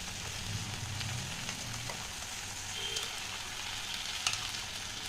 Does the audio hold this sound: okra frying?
yes